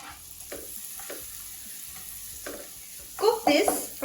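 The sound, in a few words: chopped onion frying in melted butter in a pan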